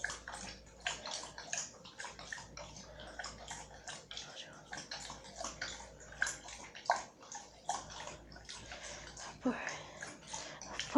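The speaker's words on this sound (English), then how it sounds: "Pardon the noise, that was just Madra drinking her water" A golden retriever laps water from a bowl indoors, a steady run of wet, splashy slurps close by and moderately loud for the whole stretch.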